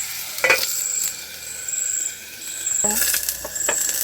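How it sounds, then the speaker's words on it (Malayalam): Tomatoes sizzle and fry in a pan for a quick egg curry, with spoon stirring and scraping strokes recurring over a steady close hiss. "ഇനി തക്കാളി ഒന്ന് ചേർത്ത് കൊടുത്തിട്ട് അതൊന്ന് അടച്ച് വെച്ചിട്ടൊന്ന് വേവിക്കട്ടോ, ഒന്ന് വാടി വരട്ടെ."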